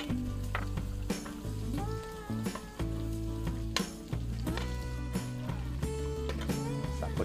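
Garlic sizzles in a pan with pork for a Batangas-style Filipino blood stew, a steady close frying crackle with utensil stirring and clinks against the pan, while music plays underneath.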